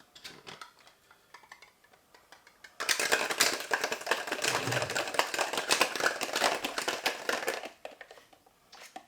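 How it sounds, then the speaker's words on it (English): Cocktail shaker rattling with ice as an AMF drink with sour mix gets a short shake; a dense, steady clatter of ice lasting about five seconds, with lighter clinks before and after, no voices. "because I'm adding sour mix, I like to infuse the drink with a small shake"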